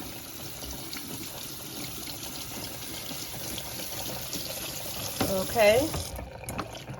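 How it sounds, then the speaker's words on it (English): Tap water runs steadily into a kitchen sink as grease is rinsed off cooked sausage for Cajun dirty rice. The flow is continuous and fairly close, with a brief spoken word near the end. "And you still wanna rinse this grease off of the sausage."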